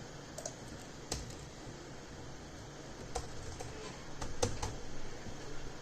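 Quick, irregular clatter of keys as code is typed on a computer keyboard, close and fairly quiet, with a few louder key strikes and bursts of faster typing.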